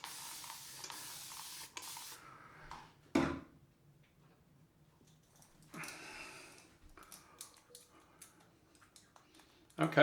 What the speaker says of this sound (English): Spray a little bit on and use the Aloe to see if there's a difference.